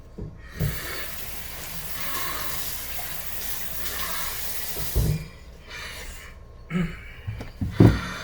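Tap water runs steadily into a sink while kale is washed under it, a close continuous splashing hiss, with a few brief thumps and clatters as the leaves are handled.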